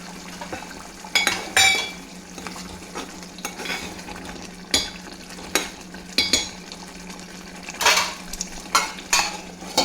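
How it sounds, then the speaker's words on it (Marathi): Fried capsicum and onion are tipped into a pan and stirred. A spoon scrapes and knocks against the metal over a soft steady sizzle, with irregular close clinks and no talking. "आणि हे कॅप्सिकम आणि कांदा जो आपण फ्राय करून ठेवला होता तो पण यात घालूया."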